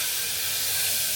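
Water poured into hot tempering oil with mustard seeds, cumin and asafoetida gives a loud, steady sizzle. The broad hiss holds evenly through the whole moment with no talk over it.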